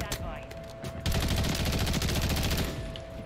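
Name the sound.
BAL-27 rifle gunshots in Call of Duty MW3 video game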